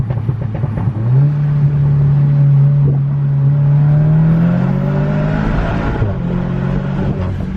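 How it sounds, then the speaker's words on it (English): An Audi, one of the A3/S3, A4/S4 or A5/S5 models, pulls hard in second gear, its engine note climbing steadily in pitch, loud and close, then easing off near the end. "Second gear pull."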